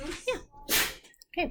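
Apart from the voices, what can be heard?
sneeze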